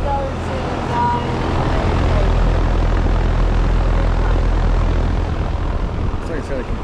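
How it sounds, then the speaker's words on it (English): A Trane XR13 central air conditioner condenser runs outdoors, its fan and compressor making a loud, steady broadband roar with a low hum that holds level throughout. "Here's a Trane XR13 running."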